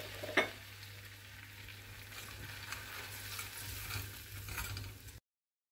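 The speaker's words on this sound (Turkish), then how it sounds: "Küçük bir tavaya 3 yemek kaşığı tereyağı, 1 çay bardağı sıvı yağ, 3 yemek kaşığı da un ekleyip kavuruyoruz." Flour frying in butter and oil in a small pan gives a steady, soft sizzle with a single sharp clink near the start, then cuts off abruptly.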